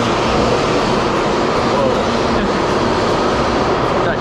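A Taiwan high-speed bullet train pulling out of the station, heard from inside as a loud, steady broadband rumble and rush that holds unbroken throughout.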